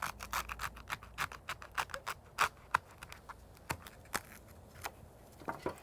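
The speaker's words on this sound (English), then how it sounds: "you're going to cut right about there" A knife cuts through a celery stalk with a series of sharp, crisp snaps and crunches at irregular intervals, close and fairly quiet.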